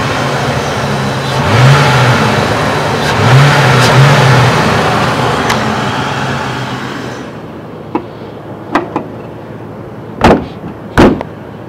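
A 1996 Crown Victoria police package with a 4.6 liter V8 revs twice, each rise swelling over a steady idle rumble from the exhaust. The engine then shuts off, and a few sharp clunks and knocks follow close by.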